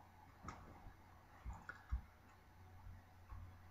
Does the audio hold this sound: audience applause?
no